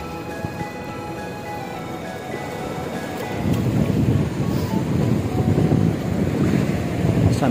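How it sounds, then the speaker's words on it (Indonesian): Ocean surf and gusty wind on a rocky shore, a steady broadband wash that swells louder midway as waves break close by, with wind buffeting the microphone throughout. "Sambil kita menerjang ombak dan badai di sini"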